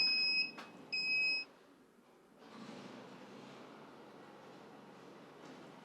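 Two short electronic beeps from an off-grid solar system with a Sol-Ark inverter and HomeGrid batteries, near the start, the second held longer, followed by quiet room noise.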